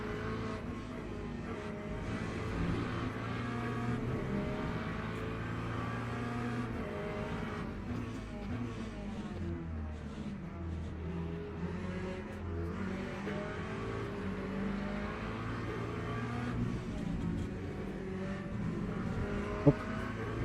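A McLaren race car in the Le Mans Ultimate racing game at Spa, its engine a steady loud drone throughout, blending with the player's own car engine as it passes close behind.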